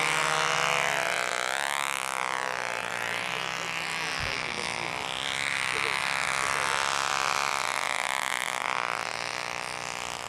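A Sarasota replica model airplane engine runs in a loud, continuous buzzing drone that rises and falls slightly in pitch at a windy flying event.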